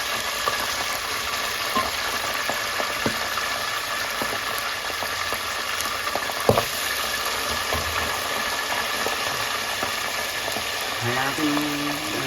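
Pork belly (liempo) frying in hot oil, a steady broadband crackle and sizzle running throughout, with an occasional louder pop and faint clatter near the end.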